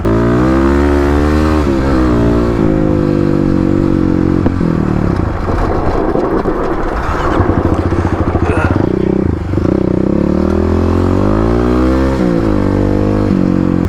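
Kawasaki KLX250 dirt bike engine revving loudly up close during a ride, rising and falling in pitch through throttle changes with a brief rougher clattering patch midway.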